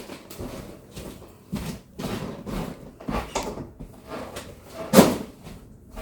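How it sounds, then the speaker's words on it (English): A home freezer drawer is pulled open and pushed shut, giving a series of nearby sliding thumps and rattles, ending in one louder closing bump. No one speaks. "I'm just going to, put this in the freezer"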